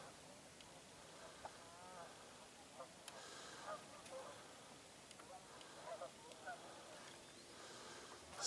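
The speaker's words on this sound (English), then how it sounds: "More geese." Geese honking at a distance over an open, partly frozen river in a coulee, their calls scattered and faint above a steady outdoor wash, with a few brief louder honks.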